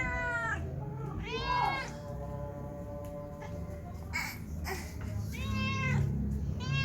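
A calico cat meows several times up close at night, drawn-out cries separated by pauses, with faint background noise and a soft voice nearby.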